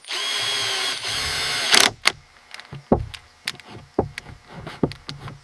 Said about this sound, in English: We're using these long screws to anchor them directly to the log base.